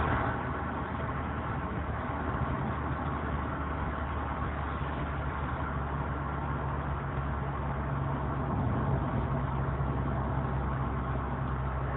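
A Renault Clio's engine pulls steadily uphill under light throttle, a continuous low drone with road rumble that holds an even level throughout, no voices heard.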